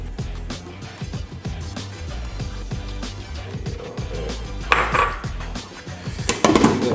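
Cornstarch and seasonings stirred together in a bowl give close, uneven scraping and clinking of a utensil against the dish, with a brighter clatter near the end and no talk.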